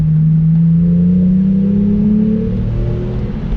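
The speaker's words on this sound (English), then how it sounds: "Got to shift down into second" Car engine on a twisty mountain road, dropping into second gear: a loud, steady mid-range engine drone whose pitch climbs slowly across a few seconds, close and continuous with no talking.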